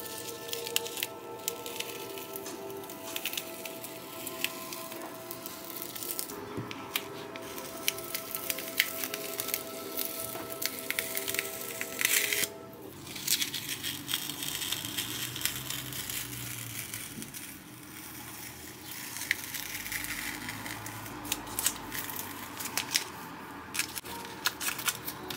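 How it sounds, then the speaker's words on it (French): Masking tape is peeled slowly off a painting up close, giving a continuous crackling, tearing rasp with small pauses and shifts in texture, with no talking. "c'est fini pour l'ASMR retrait de l'adhésif de masquage"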